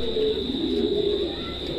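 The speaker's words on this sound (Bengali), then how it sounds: "দালুঙ্গির ভাই এখানে তো আমরা হাউস পিজন দেখতে পাচ্ছি।" Fancy house pigeons about a year old cooing steadily on a pigeon farm, a low continuous rolling coo close by with no speech over it.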